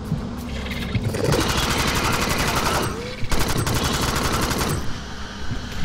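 Rapid automatic assault rifle fire in the sci-fi shooter Alien Swarm, two long sustained bursts with a short pause between them and a brief gap at the end, loud and close.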